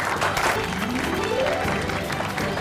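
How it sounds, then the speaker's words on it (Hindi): Applause breaks out for the quiz winner at a health-awareness community event, with a crowd clapping steadily for a few seconds and a voice briefly heard beneath it. "विजेता है महेश साहू, उनके लिए जोरदार तालियां।"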